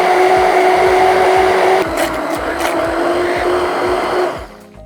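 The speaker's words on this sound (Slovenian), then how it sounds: "Kadar blendamo pireje s paličnim mešalnikom, je pomembno, da vzamemo dovolj ozko in visoko posodo." An immersion stick blender purees fresh strawberries in a narrow, tall container, giving a steady loud motor whir that dips slightly midway and then winds down near the end.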